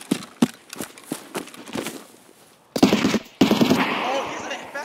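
Gunfire in a shooter video game: sharp bursts of rapid shots, some spaced and some in quick strings, with louder dense firing toward the end.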